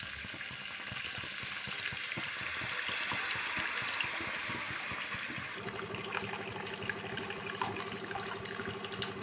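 Tamarind juice is poured into a simmering fish curry with green chillies, making a steady rushing, splashing pour over bubbling liquid. Partway through, the pour gives way to a softer, even simmer. The sound is close, with no voices.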